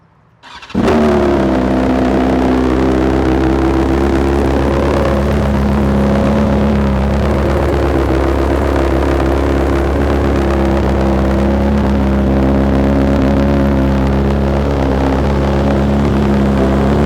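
A 2020 BMW S1000RR motorcycle engine with aftermarket exhaust fires up and runs loud and rumbling close by, with a deep steady throb and slight rises in pitch throughout, no voices.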